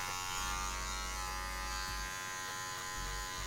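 Electric hair clippers run continuously while blending a fade on a haircut, a steady close buzz with slight dips in pitch as the blade moves in short, light strokes.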